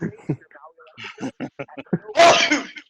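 A single sharp sneeze breaks in right after a stretch of talk, a loud noisy burst that fades over about half a second.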